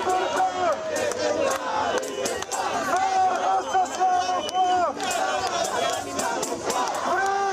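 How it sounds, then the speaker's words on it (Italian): A crowd of protesters shouts and chants together in a town square, with loud, overlapping rhythmic cries rising and falling over a busy background of voices and movement. "Appena arrivati in piazza alcuni manifestanti gridano tutti allo stadio e provano a muoversi verso Largo delle Grazie"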